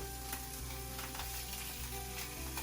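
Sausages frying in Norfolk olive oil in a pan, a steady soft sizzle and crackle running continuously at moderate level with no voices.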